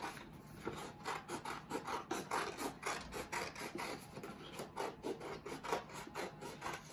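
Scissors cutting around glued paper backed with heavier paper and cardboard, a quiet steady series of short rasping snips in an even rhythm, close up with no voices.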